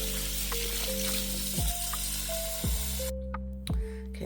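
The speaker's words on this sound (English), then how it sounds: "we are washing fresh kale greens" Running water pours steadily onto fresh kale greens being washed, a broad close hiss with a few soft knocks and drops, no voices.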